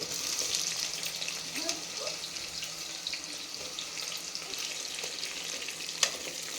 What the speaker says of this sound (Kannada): ಇದು ಜಾಸ್ತಿ ಫ್ರೈ ಆಗೋ ಅವಶ್ಯಕತೆ ಇಲ್ಲ, ಸ್ವಲ್ಪ ಫ್ರೈ ಆದರೆ ಸಾಕು. ಈರುಳ್ಳಿ ಫ್ರೈ ಆಗಿದೆ.